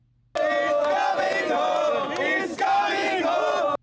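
Crowd of stand-in fans singing a song in unison, loud and sustained with a brief dip partway through, dense massed voices carrying a melody.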